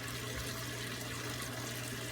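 A saltwater aquarium protein skimmer, its motor-driven pump churning water into bubbles, gives a steady, dense rushing and gurgling wash with a low hum beneath, close and unbroken throughout.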